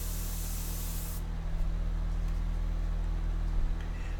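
An airbrush sprays India ink in a steady close hiss for just over a second, then cuts off, leaving a low hum underneath.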